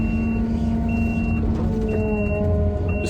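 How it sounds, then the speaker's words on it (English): Steady high reversing beeps from a Merlo telehandler repeat at a regular pace over its loud, continuous engine rumble nearby. "the beeping noise the Merlos makes"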